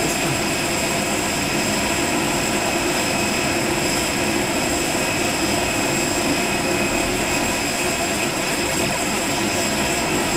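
An airliner's jet engines roar steadily during the takeoff roll in the Prepar3D flight simulator, a loud continuous broadband roar with a whining tone and no voices.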